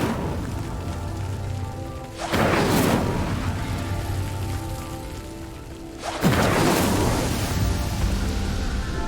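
A fire spell cast in Hogwarts Legacy ignites twice, each time a sudden loud whooshing burst of flame over a steady background hum, the two bursts spaced a few seconds apart.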